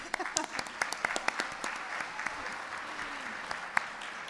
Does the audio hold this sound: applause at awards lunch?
yes